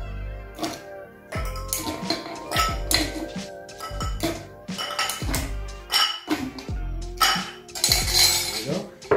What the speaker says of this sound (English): So we're gonna stir the drink.